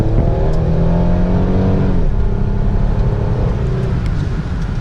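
A Pontiac Grand Prix GTP accelerates hard with performance shift off, its engine droning loud and steady as the pitch climbs, drops briefly at a shift, then rises again under wind and road noise.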